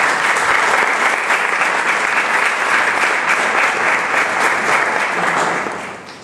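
Sustained applause from an audience after a poetry reading at the Marpoética festival in Marbella, loud and dense throughout, tapering slightly at the end.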